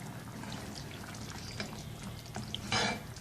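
Water poured into a pot of lentils and chicken for degi-style daal mash, a short splashing gush near the end after a steady low cooking background.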